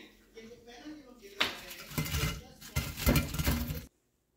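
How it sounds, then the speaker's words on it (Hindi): Fried fish pakora is served onto a plate, with clinks and scrapes of utensils against dishes that build and continue for a few seconds before stopping, and a voice is faintly present. "अब हम फ़िश पकौड़ा डिश आउट कर रहे हैं"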